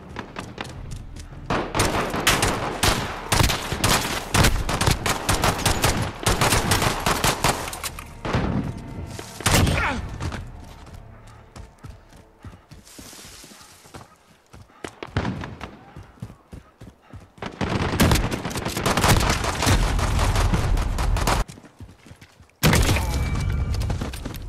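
Gunfire in Call of Duty: Modern Warfare's Gun Game mode crackles in dense bursts of rapid shots and impacts, loud and near, with short lulls between volleys.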